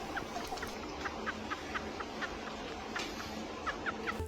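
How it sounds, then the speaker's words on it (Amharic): A chicken clucks in short, quick, faint repeated bursts against a low, steady background hum, the calls coming in loose clusters across the few seconds. "ዶሮ ቢትቦክሲንግ ይችላል እንዴ?"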